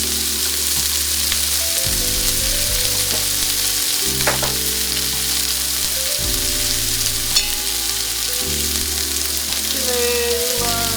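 Potatoes frying in olive oil over lowered heat, a steady dense sizzle that runs continuously and loudly throughout, with occasional stirring scrapes and no talking.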